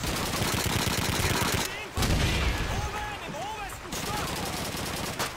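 Heavy MG42 machine gun fire in the video game Call of Duty 2, loud rapid bursts of gunfire with a short pause midway, alongside other in-game battle noise.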